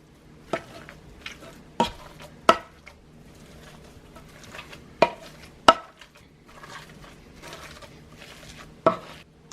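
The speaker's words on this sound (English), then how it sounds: "you're just going to mash them up real well" Drained, tender cooked sweet potatoes are mashed in a bowl, each firm press of the masher landing as a sharp knock, roughly one to two seconds apart, with soft squishing between strokes.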